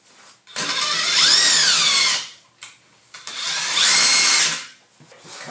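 A VersaDrive ImpactaDie driven by a power drill re-cutting threads on a metal bolt: two loud, close whirring runs, each a few seconds long, with the motor pitch rising and falling, separated by a short gap and a brief click.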